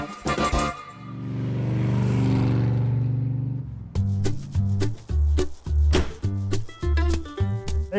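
A classic car with gold metallic paint and Mini-Lite alloys cranks over, then its engine fires and settles into a steady, loud idle before a series of sharp, uneven revs and blips close up.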